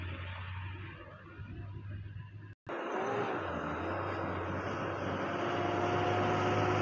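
A Tata truck drives past on a road with a sustained engine roar and tire rumble, loud and close, swelling as it passes, with no speech.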